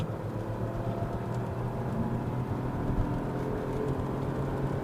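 An automatic car under acceleration, heard as a loud, steady drone of engine and road noise from inside the cabin, with no distinct rev peaks and no talk.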